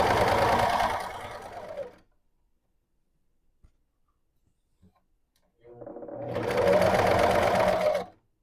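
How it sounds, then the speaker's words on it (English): A sewing machine stitches patches onto fabric in two loud, fast whirring bursts separated by a quiet pause with a faint click or two. "I am just sewing as close to the edge as possible, going around each and every one"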